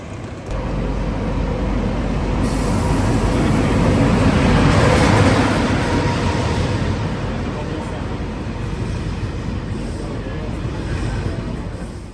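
A TER 200 regional train departs on a line toward Colmar and Strasbourg with a broad rumbling roar that swells toward the middle and slowly fades, while a voice narrates over it.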